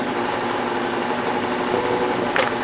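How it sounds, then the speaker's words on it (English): A sewing machine runs continuously and close up while hemming turned-up fabric cuffs on an 80s cosplay jacket, giving a steady loud mechanical whir and buzz with no pauses. "At this point, all that was left was to sew the cuffs."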